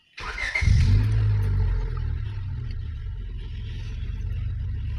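A 2000-or-older Honda Civic with a check-engine fault starts with a brief cranking burst, then settles into a steady, close, fairly loud idle rumble with no talk.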